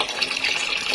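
Water flushed out of an alkaline water purifier filter pours steadily into a bucket, a loud, close, continuous hissing gush with no voices.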